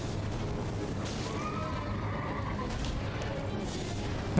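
A summoned horse in Elden Ring whinnies, a drawn-out neigh rising over a steady wash of game ambience and low rumble, moderately loud in the middle of the stretch.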